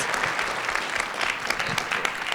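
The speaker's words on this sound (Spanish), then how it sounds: "otro enorme aplauso a la tenacidad de nuestra compañera Dolores Padierna" Audience applause at a weekly MNE assembly: steady, dense clapping from many hands that fills the room evenly, with no voices standing out.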